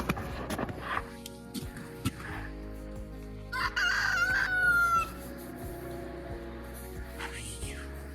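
Backyard chickens cluck softly nearby while a rooster crows once partway through, with a voice heard briefly between the calls.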